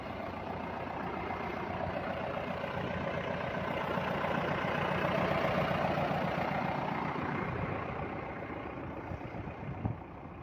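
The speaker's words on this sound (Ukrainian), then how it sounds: "Отакий тракторець у нас." A tractor engine runs steadily throughout with a cultivator and harrows, a continuous low rumbling drone that stays loud and close with slight shifts in tone.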